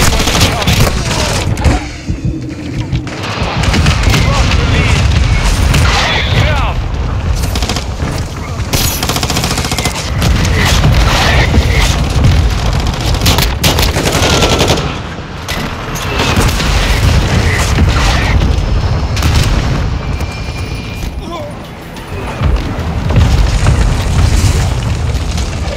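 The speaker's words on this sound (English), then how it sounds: "Hostile mortar." Mortar blasts and rapid gunfire fill a Call of Duty Modern Warfare 2 team deathmatch on the Shipment map, a dense, loud and nearly continuous barrage of booms and shots with brief game voice callouts mixed in.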